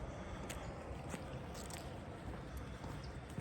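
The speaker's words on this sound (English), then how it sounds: "That sound is water coming out." Steady, broad rushing of water pouring out of a spillway, a continuous wash of noise heard from a short distance with no breaks.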